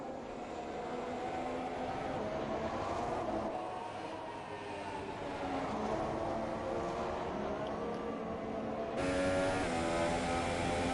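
A Haas Formula 1 car with a Ferrari engine, with a Dallara chassis, in a sim racing game at the Chinese Grand Prix: a steady, sustained engine roar running throughout, loud and continuous with shifting pitch.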